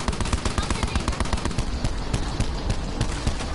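Rapid, dense bursts of automatic gunfire in a PS4 video game, loud and continuous throughout.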